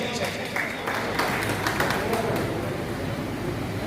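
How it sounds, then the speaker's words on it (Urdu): Applause at a community program in Karachi honoring an association general secretary and vice president, steady clapping from a crowd mixed with some voices, close and fairly loud. "ان لوگوں کے لیے بھرپور تالیاں ہونی چاہیے"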